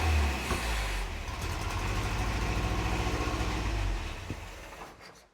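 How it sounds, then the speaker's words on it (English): An old trials car engine fires up and settles into a loud, steady idle, chugging low and continuous close by, then cuts off near the end, with no talk over it. "You can hear that James has gone to fire up his dad's trials car."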